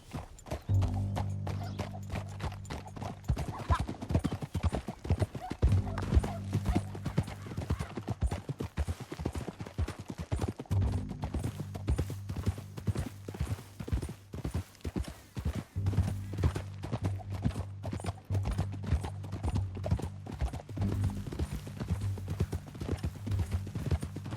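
Horse hooves clip-clop in a steady, rapid rhythm throughout a ride in the video game Red Dead Redemption 2, close and continuous, with a low engine-like drone underneath and occasional speech mixed in.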